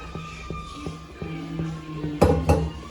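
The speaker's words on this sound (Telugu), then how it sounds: "వెలిగించి ప్యాన్ పెట్టుకొని ఇందులో కొంచెం ఆయిల్" A pan set on a lit stove with metal clinks and taps, ending in two louder clanks, as oil goes in for ragi noodles; quiet kitchen setting without talk.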